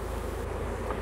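Honey bees lingering in a package at the hive after installation, buzzing as a steady, faint, continuous drone with no voices.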